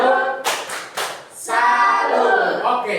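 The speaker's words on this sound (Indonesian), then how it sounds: "tepuk tangan dulu untuk Yulita" A primary school class in Indonesia claps together in a quick rhythmic tepuk salut cheer, with short bursts of group clapping broken by pauses and chanting children's voices.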